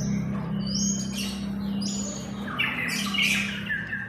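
Caged white-rumped shamas (murai batu) at a bird farm give loud squawks and sweeping whistled calls, several overlapping in quick succession, over a steady low hum.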